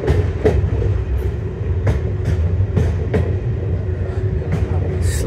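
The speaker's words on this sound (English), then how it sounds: "Train's slowing down now." A diesel multiple unit rolls along a heritage railway line while slowing, with a steady low engine and wheel rumble and a few sharp rail clicks spaced irregularly over it, all fairly close.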